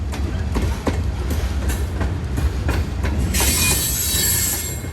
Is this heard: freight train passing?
yes